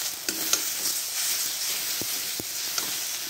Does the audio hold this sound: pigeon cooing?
no